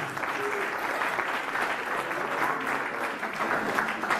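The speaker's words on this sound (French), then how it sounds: "il mérite aussi beaucoup d'applaudissements." An audience at the unveiling of the Ressaix carnival poster applauds an honoured guest, sustained thick clapping from a crowd that holds steady throughout, with a few voices mixed faintly into the noise.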